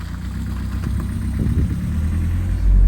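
A modified Mini's engine runs steadily at idle with a low, even rumble and slight vibration, growing a little louder toward the end, close and without voices.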